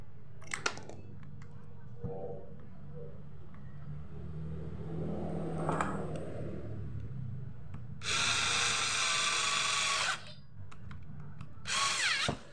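A power driver fastening the bolt that holds the capacitor on an electric fan motor during repair, with a quiet mechanical hum and clicks before two loud, close bursts of whirring drill spin near the end.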